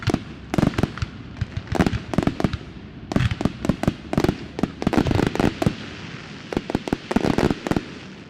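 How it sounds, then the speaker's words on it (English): Fireworks pop and crack in rapid, irregular bursts over a semi-final between the Titans and Broncos, with clustered volleys of sharp explosions and brief gaps throughout, loud and fairly close. "Hopefully that'll be the end of the fireworks."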